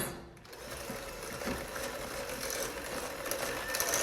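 An electric mixer whirring steadily as it blends cake batter with vanilla for a strawberry pizza, a continuous close motor drone throughout with no speech.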